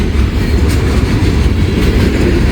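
A loud freight train rumbles steadily nearby in Wyoming, deep low rumble with faint clickety-clack of wagons as it gets underway, no voices.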